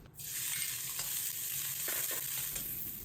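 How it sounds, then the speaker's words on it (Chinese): Diced onion stir-fries in hot oil in a wok for cumin lamb, giving a loud, steady, close sizzle with a few scraping stirs through it and no voices. "将洋葱的水分炒干炒香。"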